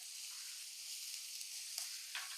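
Curry leaves and kanthari chilies sautéing in a pan, a steady, fairly quiet hiss of frying oil with a couple of faint stirring clicks, no voices.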